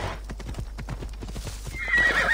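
Horse hooves clip-clop steadily in the open-world game Assassin's Creed Odyssey, a close rhythmic trot that ends with a loud neigh near the close.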